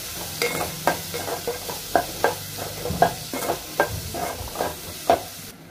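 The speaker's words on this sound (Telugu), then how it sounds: "ఇప్పుడు ఉల్లిపాయలంతా ఫ్రై చేసుకోవాలి, బ్రౌన్ కలర్ వచ్చినంత వరకు." Onions frying in a pan until brown, a steady sizzle broken by a regular series of scraping, stirring strokes from a spatula, close and moderately loud.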